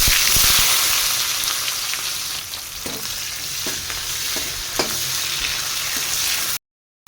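Chopped onions hit hot oil already seasoned with black cumin and bay leaves for a Bengali silver carp fish curry, giving a loud, steady close-up sizzle with a few scraping stirs, then sudden silence.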